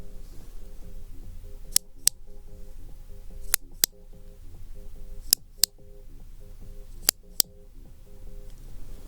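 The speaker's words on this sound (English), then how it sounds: "How many clicks?" Sharp clicks in an ASMR ear, nose and throat hearing test roleplay, arriving in quick pairs with pauses between them, crisp and close over a faint low background hum.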